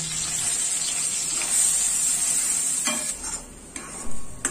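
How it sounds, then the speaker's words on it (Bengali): Meat paste meets hot mustard oil in a wok with a loud bright sizzle, then a few clanks and scrapes of a spoon against the pan as it is stirred, close up and without talk. "এবার মাংসের পেস্টটা ওই কড়াইয়ের মধ্যে দিয়ে দেব।"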